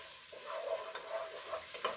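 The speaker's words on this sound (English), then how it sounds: "Okay, sizzling. Y'all hear that?" Onions for black-eyed pea soup sizzle gently in a pan, a soft, steady frying hiss with faint brief scrapes, close but fairly quiet.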